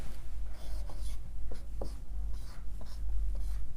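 A pen scratches across paper while a Class 10 maths problem is worked out: short, uneven strokes and scribbles, close and fairly clear over a low background hum.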